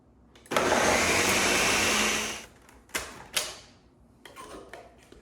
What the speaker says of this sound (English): let's put the lid on and let's get blending